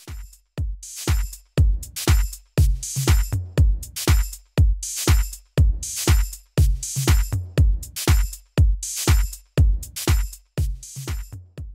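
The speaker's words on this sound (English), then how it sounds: "Lowering the max gain reduction to 20 dB brings the punchiness of my transients back" A steady drum groove with punchy kick and snare hits in a regular rhythm, heavily compressed, dense and evenly loud with little dynamic variation between strikes.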